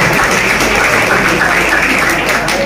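Loud, continuous applause from a gathered crowd at a Maulid Nabi religious event, a dense unbroken wash of clapping throughout with no distinct voices on top.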